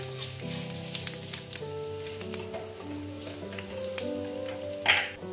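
Whole cumin seeds sizzle in hot oil for a tempering, a steady close crackling fry with small pops and bubbling running throughout and a brief louder spit near the end.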